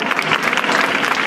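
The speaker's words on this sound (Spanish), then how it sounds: "un aplauso para Isabel" An audience applauds Isabel at a 2014 International Day for the Eradication of Poverty event in Ciudad Real, giving a short burst of dense, steady clapping from many hands, fairly loud and close.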